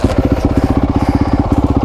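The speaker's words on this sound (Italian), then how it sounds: "cosa c'è di più bello di accendere la moto così?" Honda CRF450 motard motorcycle engine firing up and settling into a loud, rapid, pulsing thump, close by with no talking.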